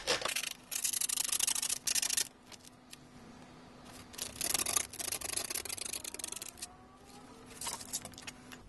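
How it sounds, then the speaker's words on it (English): A small metal pinhole lens rubbed on sandpaper gives scratchy, rasping strokes in several bursts separated by quiet gaps, close-up and unaccompanied. "we're going to rub that on the sandpaper until we can't feel any more protrusions around the edge of the pinhole."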